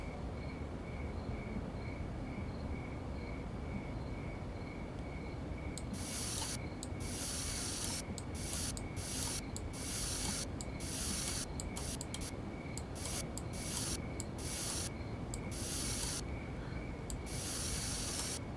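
Graffiti spray painting in the video game Schedule 1: a faint background hum and whine, then a long series of loud hissing aerosol bursts in quick, uneven pulses, close up and without speech.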